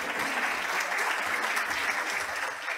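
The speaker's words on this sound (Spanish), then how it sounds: "Ramón, un gran aplauso, Ramón Heredia." An audience at a Buenos Aires digital banking conference claps in sustained, dense applause, steady and fairly loud from start to finish.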